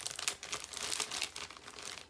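A makeup brush mystery box package being cut open with scissors gives off a quiet, continuous crinkling and rustling of plastic and paper packaging, with no speech.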